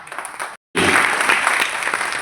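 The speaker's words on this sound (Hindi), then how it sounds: "देवी और सज्जनों पर जोरदार तालियों के साथ आपका स्वागत" An audience at an NGO gathering claps loudly to welcome a minister to the stage, a brief gap followed by dense, sustained applause filling the hall.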